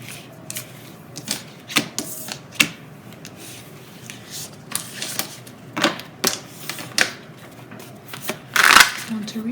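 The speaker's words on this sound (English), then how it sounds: "I want to reshuffle." Tarot cards are shuffled by hand in a series of crisp, uneven riffles and snaps, with a louder burst near the end and a voice talking faintly in the background.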